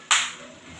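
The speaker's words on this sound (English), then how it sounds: "Clapping" One sharp clap from children during a kindergarten PT counting exercise, loud and close, then fading into quiet.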